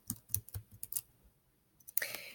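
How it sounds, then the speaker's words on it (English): Typing on a computer keyboard, with a few bursts of key clicks in an irregular rhythm, close and moderately quiet, followed by a brief louder clatter near the end. "you're going to start typing something"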